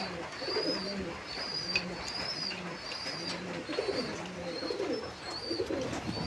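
Pigeons in a backyard loft in West Bengal, India, cooing repeatedly in soft rhythmic throaty phrases at close range, several birds overlapping with faint chirps in the background.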